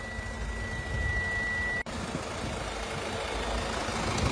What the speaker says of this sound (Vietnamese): Các bác cùng nghe tiếng động cơ máy móc